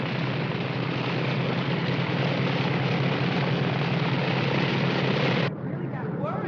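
Airplane arriving at an airport, a loud, steady broadband engine roar that holds for several seconds and then cuts off abruptly, leaving a quieter background.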